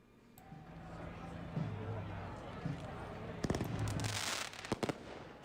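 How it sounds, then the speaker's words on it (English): Fireworks go off during a street protest: a cluster of sharp crackling pops and bangs bursts out near the end over a constant low hum and faint background noise. "Fireworks, folks."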